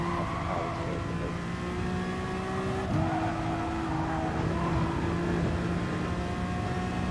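A Honda car engine holds high revs in Gran Turismo Sport, droning steadily and close. Its pitch dips briefly midway, as if shifting gear, then climbs again.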